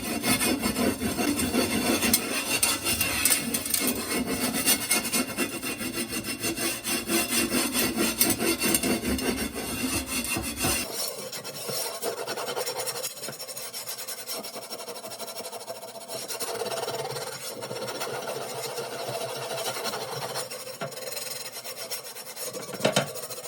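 A chainmail scrubber rubbed around a dirty cast iron pan gives a steady, harsh rasping scrape, loud and continuous, that turns slightly thinner and quieter partway through.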